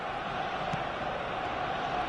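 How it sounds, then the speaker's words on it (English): Steady, dense roar of a stadium crowd at a football match in a video game, continuous and fairly far off, with no distinct cheers or breaks. "The stadium is full of noise and energy."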